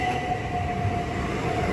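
A Southeastern Class 375 electric multiple unit, an 8-coach service, arrives at Bromley South station with a steady rolling rumble and a faint high whine, close by and continuous with no talk.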